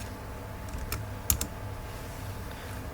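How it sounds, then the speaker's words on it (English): A few quiet clicks of typing on a computer keyboard come in a short, sparse burst over a low background hum, faint and close, with no talking. "I'm going to type in"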